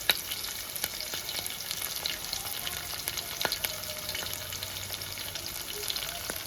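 Chopped onion and a sprig of curry leaves fry in hot oil for a Telugu tempering, giving a soft continuous sizzle with scattered crackles and pops, fairly quiet and with no talk.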